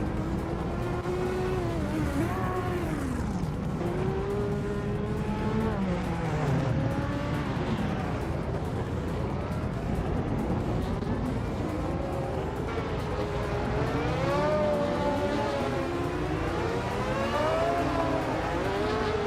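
Race cars drive in a racing video game, engines whining and sweeping up and down in pitch as they accelerate and shift, a loud continuous roar with occasional tire squeal.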